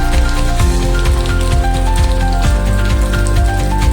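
The season's first monsoon rain falls in Powai in the morning, a steady broad hiss under louder background music with stepping notes.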